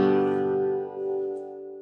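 A single chord strummed on a guitar, using a green chord shape, rings out close and clear, fading gradually with a slight swell near the middle, with no talking.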